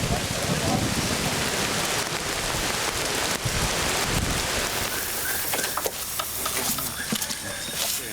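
Steady heavy rain hisses and patters on surfaces in a dense, continuous wash, with people talking faintly beneath it.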